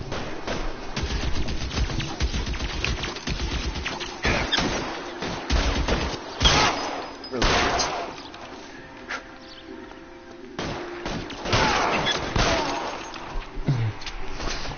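Bursts of rapid gunfire crack and rattle in clusters in the video game L.A. Noire, mixed with sharp smashing impacts and shouting voices.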